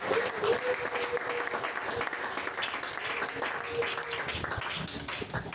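Church congregation applauding and cheering in praise of the Lord, a steady dense wash of clapping from a large crowd sustained throughout, with scattered voices mixed in.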